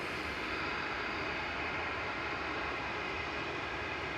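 An EasyJet airliner departs from runway 23 left at Manchester Airport, a steady, broad distant jet roar holding constant throughout with no talk.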